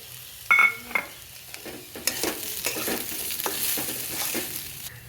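Spiced coconut paste with ghee, ginger, cumin, coriander, Kashmiri chilli and turmeric sizzling in a pan as a spatula scrapes and stirs it, a few sharp clinks at first, then steady close frying.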